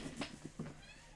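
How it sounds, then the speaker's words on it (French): A small kitten gives several short, faint meows while stuck and wanting to be lifted down, heard over a noisy room background. "il miaule comme ça pour que je le descende ou que je le monte"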